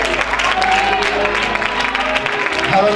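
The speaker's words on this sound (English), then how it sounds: "Come and praise the Lord with a hand clap." Church congregation clapping hands in praise during a worship service, steady crowd clapping for a few seconds with music or voices underneath.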